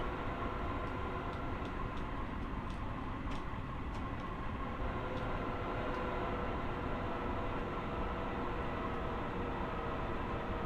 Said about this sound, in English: Train is bouncing around.